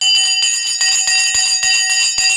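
A stock market opening bell rings continuously and loudly, a bright sustained electric ringing with rapid regular pulsing, alone and close.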